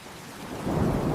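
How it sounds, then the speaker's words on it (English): Heavy rain pouring down while someone crosses a bridge, a dense wash of steady hiss that swells louder midway, close and enveloping with no voices. "The rain is even heavier now."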